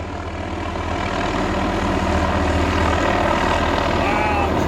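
Black helicopter working on construction and tree trimming drones overhead with a steady, loud rotor and engine roar that fills the whole stretch, while people on a canoe talk beneath it.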